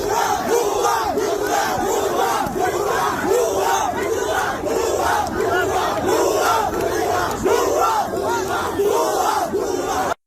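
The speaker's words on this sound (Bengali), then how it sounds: "দেখেন এরা কিরকম গুপ্ত গুপ্ত বলে স্লোগান দিচ্ছে" Loud crowd chanting slogans in unison at a political protest, rhythmic rising shouts repeating steadily and close, filling the scene without pause.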